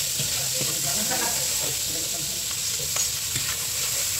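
Garlic sizzles steadily in a hot pan for pakbet with bagoong, with scraping stir strokes and faint clicks over a continuous frying hiss throughout.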